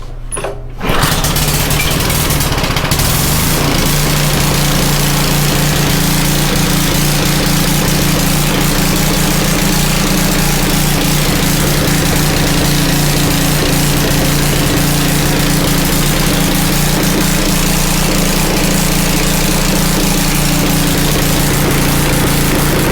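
A rototiller engine running at full throttle and blowing black smoke roars loud and steady at close range after a brief quiet start, a constant buzzing drone with no talk.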